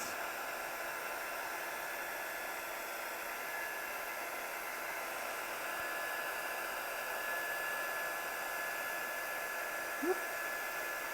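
A handheld heat tool blows steadily to heat set work in a studio, giving a constant even whooshing hiss with a faint tonal whine, close and unbroken for the whole stretch, with no talk.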